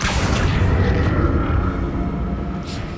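Confringo blasting spell from the Hogwarts Legacy video game: a loud, deep booming explosion that rolls on as a sustained low rumble, with a couple of brighter crackling bursts on top.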